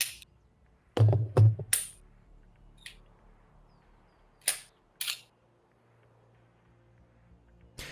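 Gunshots ring out in Escape from Tarkov: a few sharp reports, one cluster close together, then scattered single shots amid near silence.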